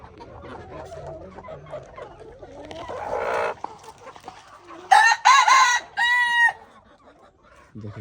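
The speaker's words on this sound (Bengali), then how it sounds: "আর এই জায়গাটায় হচ্ছে কিছু বড় মুরগি" Chickens cluck and a rooster crows several times in a rural farmyard of large and small hens, with the crows standing out loud and close between softer clucking and background birdsong.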